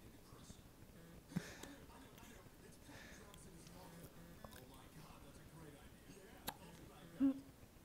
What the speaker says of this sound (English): We got hiccups.